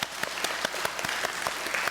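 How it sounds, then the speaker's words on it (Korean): A church congregation applauds children at a Sunday worship service, a steady, dense burst of clapping that fills the whole stretch with no talking over it. "우리 기자애들 박수 한번 주세요"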